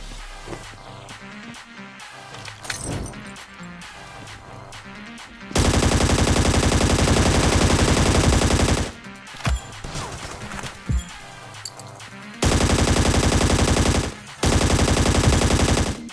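Bursts of rapid automatic gunfire in the mobile game ScarFall 2.0, loud and dense, with quieter stretches of scattered shots and game noise between them.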